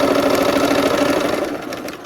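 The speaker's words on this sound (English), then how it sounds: "we're gonna go ahead and sew" A sewing machine stitching through pinned fabric, its needle hammering in a fast, even, close mechanical chatter that slows slightly toward the end.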